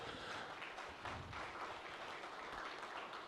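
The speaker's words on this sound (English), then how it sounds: "Please put your hands together for Randy Cruz" An audience at a business forum opening ceremony bursts into steady, dense applause, many hands clapping together in a sustained, fairly even wash that fills the room.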